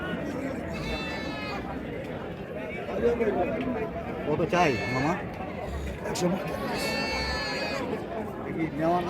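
Goats bleat a few times amid a noisy, chattering crowd at a village cattle market, with people talking close by throughout.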